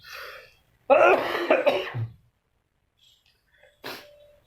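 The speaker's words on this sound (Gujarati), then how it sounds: "મને ખાંસી થઈ ગઈ છે" A person coughs a few times in a short burst, then after a pause gives one more quick cough, close and fairly quiet.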